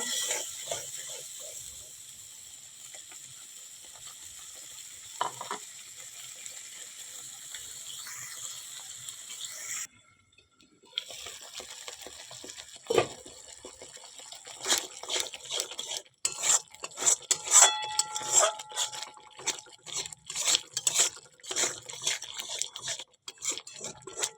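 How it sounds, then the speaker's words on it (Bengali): Spice paste for a paneer curry frying in oil and being stirred, with a low sizzle, a brief pause, then clinks and scrapes of a spoon against the pan growing busier toward the end. "দেখো মশলাটা আস্তে আস্তে তেল ছাড়ছে"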